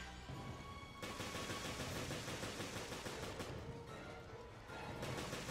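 Gunfire rattles in Resident Evil: Revelations as enemies are shot, with dense rapid bursts of shots blending into a loud, continuous barrage with brief gaps.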